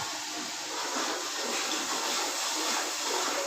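Water poured into a pan of cooking masala for rice and potatoes, a steady broadband hiss and sizzle running unbroken and fairly loud, with no talk.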